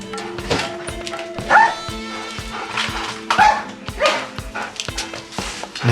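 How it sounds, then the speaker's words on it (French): A police money-sniffing detection dog barks in a repeated series of sharp, close barks with some whimpering between them, over a steady low background hum. "un chien renifleur de billets"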